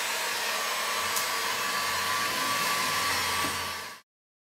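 A dryer blows a steady, loud whooshing stream over a hand-formed porcelain bath sink, running constantly for about four seconds before cutting off abruptly into silence.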